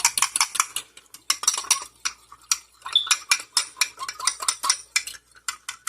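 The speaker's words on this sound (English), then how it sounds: "Let me get a fork because I think I can mix it better with a fork." A fork clinks and scrapes rapidly against a bowl while stirring vanilla cream doughnut filling until smooth, a busy run of close, bright metallic taps and scrapes with no talking.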